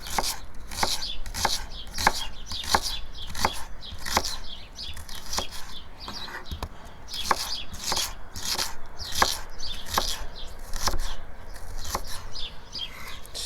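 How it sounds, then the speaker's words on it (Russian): A knife chops an onion into half-rings on a board while Uzbek plov is prepared outdoors over a campfire: a close, crisp, rhythmic series of sharp cuts, roughly one or two per second, continuing steadily with brief irregular gaps. "Лук полукольцами вот так режем"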